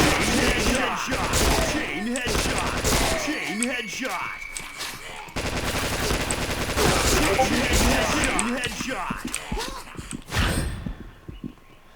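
Rapid gunfire from a gun in the shooter Point Blank's zombie mode, dense bursts of automatic fire rattling almost continuously, with someone talking over much of it and a brief drop-off near the end.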